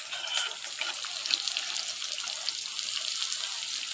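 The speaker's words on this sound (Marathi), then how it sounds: "आता आपण हा कांदा टाकणार आहोत।" Onion tipped into hot oil already holding cumin seeds sizzles steadily with a bright, crackling hiss, near and moderately loud, as the tadka is made for dhaba-style dal.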